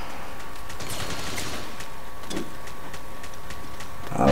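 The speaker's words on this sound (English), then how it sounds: "nice machine gun" Machine gun fire in the online shooter Metal Gear Online 2 comes as rapid bursts of shots over a steady game background, with a louder burst near the end.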